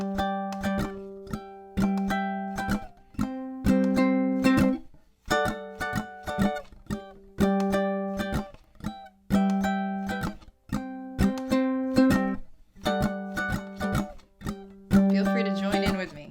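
Ukulele strumming with a full band backing through the outro of a song, steady rhythmic chords in bouncy repeated phrases, loud and continuous.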